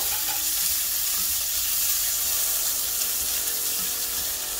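Onions fry with tomatoes for a tofu curry, giving a continuous bright, close sizzle with a light wet crackle and soft stirring underneath, steady and unbroken throughout, with no voices.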